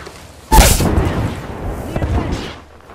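An artillery strike in the Apex Legends video game lands with a sudden loud boom, followed by a rumbling, crackling tail and fainter secondary blasts.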